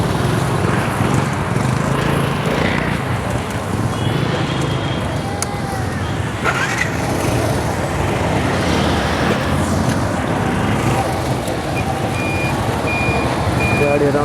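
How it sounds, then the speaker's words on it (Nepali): Busy road traffic with trucks, a loud constant roadway rumble and engine noise, cut through by repeated high reversing beeps, with people talking over it. "गाडीहरू आउँछ क्रस गर्न गाह्रो छ"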